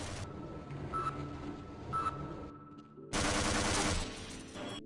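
Automated turret in Half-Life fires rapid bursts of gunshots up close, with a short lull before a louder, denser stretch of sustained fire.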